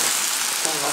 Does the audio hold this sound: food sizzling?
yes